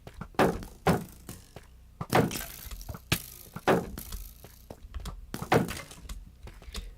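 Skeletons in Minecraft Bedrock loose arrows in rapid succession, a string of sharp thunks and twangs a fraction of a second apart, fairly close and standing alone without talk.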